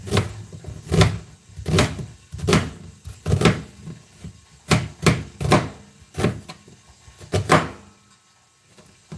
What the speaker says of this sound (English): And cut up this other onion real quick.